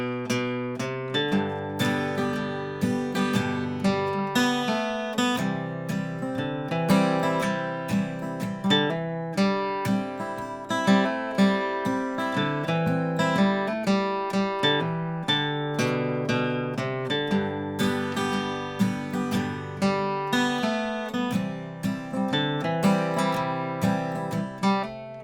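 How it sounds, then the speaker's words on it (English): Steady strummed acoustic guitar chords from the intro of a song ring out alone at a moderate tempo, bright and full, with a consistent rhythmic pulse throughout. "it's got great acoustic guitar parts."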